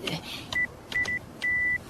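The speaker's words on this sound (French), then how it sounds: "Tout ce qu'il faut faire, c'est entrer votre code là et ensuite vous appuyez sur ce bouton." Someone keys a code into an alarm system keypad, which answers with short electronic tones: a single beep, two quick beeps, then one longer held tone. The beeps are close and clear over faint room noise.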